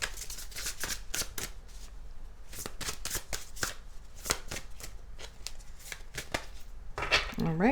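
A tarot card deck is shuffled in repeated crisp riffles and bursts of flicking cards, loud and close, with a brief voice near the end.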